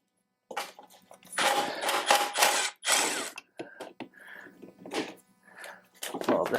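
An 8mm socket wrench works loose a screw on the air filter cover of a John Deere S130 riding mower, giving quick close ratcheting clicks in short bursts separated by brief pauses.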